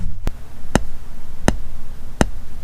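A speaker polarity tester, a PT9A, fires four sharp pops at an even pace, each a short dry click from a small speaker in a 2019 Ram, with a faint hum between them.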